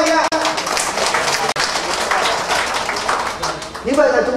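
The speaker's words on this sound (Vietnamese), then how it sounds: "xin chúc mừng tất cả các chú anh chị hôm nay có một tràng pháo tay nha" An audience at an indoor gathering breaks into a round of applause, dense, steady clapping that fills the room at close range, with voices blending in near the end.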